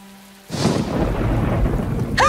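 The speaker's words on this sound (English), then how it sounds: "Looks like this thunderstorm has given me my life back." A Minecraft thunderstorm opens with a sudden loud crack of thunder, followed by steady heavy rain that continues close and full. A brief synthetic warbling tone sounds near the end.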